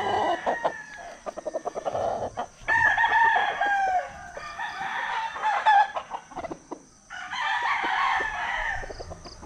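Chickens cluck in a rapid rhythmic burst, then a rooster crows loudly twice in long drawn-out calls, close by on a mountain farm, with no talk.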